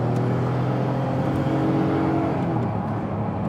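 Noble M12 GTO3R sports car accelerating, a steady loud engine roar with turbo and wastegate whooshes riding on top, continuous and close throughout with no talking.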